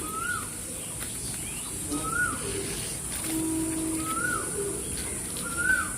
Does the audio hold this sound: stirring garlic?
no